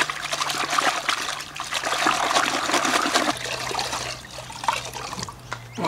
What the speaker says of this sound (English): And we wash it out.